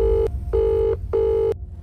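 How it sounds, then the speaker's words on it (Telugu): Phone ringing for an unanswered call, three repeated electronic ring tones with short gaps between them, loud and close. "అరే ఫోన్ లిఫ్ట్ చేయరా"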